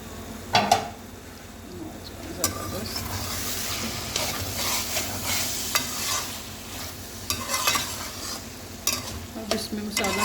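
Beef with mushrooms, onion, tomato and masala frying and being stirred in a pot, a steady sizzle under scraping spoon strokes with occasional sharper clinks of utensil on metal, close and moderately loud, no talk.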